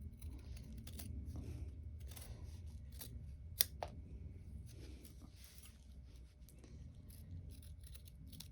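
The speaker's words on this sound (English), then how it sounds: "I'm just going to take my scissors and cut as close to this" Scissors trim the braided leather of a handbag strap, producing a series of faint, scattered snips and clicks over low background hum, with one sharper snap midway.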